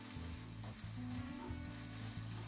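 Chopped pepperoni and sausage mince frying in oil in a pan for a shakshuka breakfast, a quiet continuous sizzle with a low steady hum behind it, no voices.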